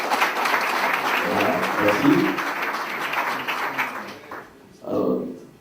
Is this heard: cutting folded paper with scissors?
no